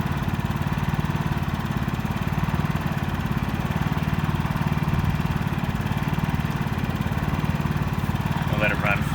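A Generac IQ3500 portable inverter generator runs steadily in economy mode, a constant close mechanical drone with no pauses, with a brief voice near the end.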